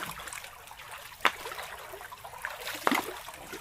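Water trickles and gurgles softly into a rice paddy, a faint, continuous outdoor flow with two brief splashes, heard from close by.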